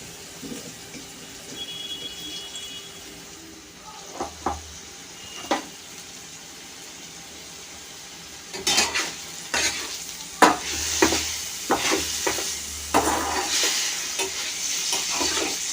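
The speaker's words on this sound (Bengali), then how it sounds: "মশলাটা অনেকটা ভাজা ভাজা হয়ে গেছে" Spice paste for an egg chaat sizzles and fries in a pan, with a steady crackle throughout and repeated scraping stirs of a spoon that grow louder and busier toward the end; no talking.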